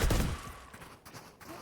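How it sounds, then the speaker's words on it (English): Burst of gunfire in the tactical shooter Valorant during a tournament match, a quick dense volley up front that fades into scattered, quieter shots and game noise. "That's probably a lot more gunfire than they anticipated to actually get that eye shot out."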